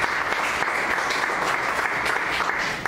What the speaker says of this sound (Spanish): Denle una ofrenda de palmas